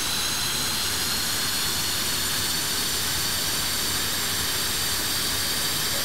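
An aircraft engine on the ground being given more power, a loud, steady jet-like roar and hiss that fills the whole stretch, with no voices over it.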